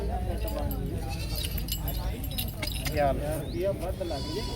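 Goats bleat in quavering calls at a crowded goat market in Bargari, Punjab, heard amid constant nearby chatter and bustle.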